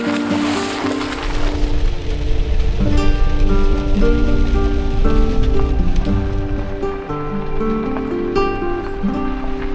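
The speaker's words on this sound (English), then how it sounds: "There has been intermittent sun and showers all day" Rain showers pattering steadily on surfaces at a coastal-range camp near the ocean, loud and close, with a faint low rumble underneath and no talking.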